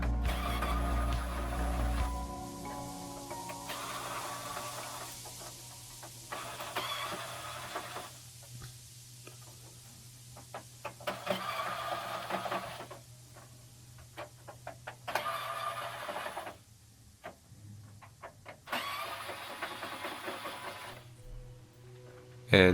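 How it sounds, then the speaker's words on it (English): Screws being removed from the motherboard of a Dell Dimension E310 desktop computer with what sounds like a powered screwdriver, giving repeated short whirring bursts separated by pauses, close up, over a faint steady hum. "And now I focus on the motherboard. So I take out some screws,"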